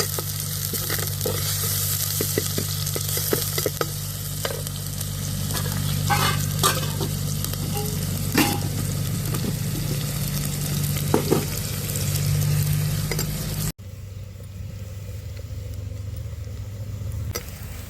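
Crushed small shallots sauté in a pan for a fish curry, giving a steady close sizzle with occasional sharp crackles and stirring scrapes before dropping to a quieter hiss.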